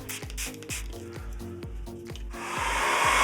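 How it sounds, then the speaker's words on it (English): A hair dryer whirs loudly and close while blow-drying hair for an at-home blowout. Its motor pulses in an uneven rhythm at first, then settles into a steady, stronger airy roar near the end. Nobody speaks. "I dry the product in a little bit before I really start to blow dry"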